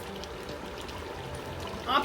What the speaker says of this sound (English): I am going to add some water to the marinade that's reserved here.